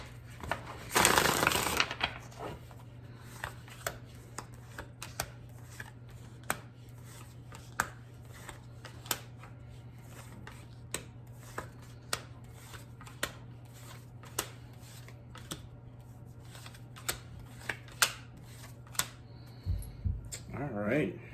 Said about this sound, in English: One more shuffle for Gemini.